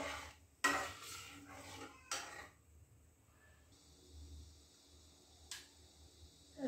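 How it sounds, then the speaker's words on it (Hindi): A spoon clatters and scrapes against a pan as garam masala is stirred into a raw banana dish, with a few sharp knocks spaced over several seconds amid quiet gaps. "इसमें आधा छोटा चम्मच गरम मसाला डाल देंगे और इसको मिक्स कर देंगे।"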